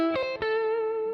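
A sustained, buzzy tone from a guitar amp through the distortion effect in IK Multimedia MixBox, with two quick re-struck notes at the start before one bright held note rings on, loud and close.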